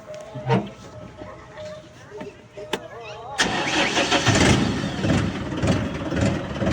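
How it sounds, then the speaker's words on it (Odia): A parked vehicle is started after a couple of faint clicks and taps, and then the engine catches and settles into a loud, steady rumbling idle. A voice talks at moments during the clip. "ଆମେ ବର୍ତ୍ତମାନ ଗାଡ଼ିଟି ଷ୍ଟାର୍ଟ କରିବୁ"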